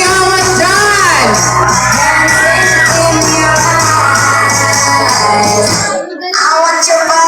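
Crowd at a Miss Gay Villa Miranda pageant shouting and whooping loudly and continuously over amplified music, with a short dip near the end before the cheering resumes.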